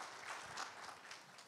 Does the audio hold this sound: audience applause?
yes